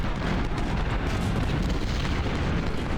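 Artillery batteries fire in the Ultimate General Civil War strategy game at the Battle of Fredericksburg, a dense, continuous rumble of overlapping booms and blasts with no clear gaps between shots.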